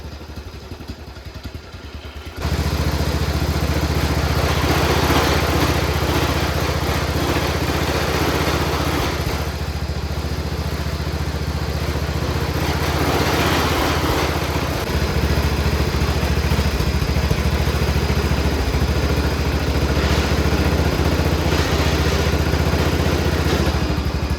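An old mud mower pulled from the weeds starts up after a short quiet moment, then runs loud and close with a steady rough engine drone and constant metallic rattling, no voices.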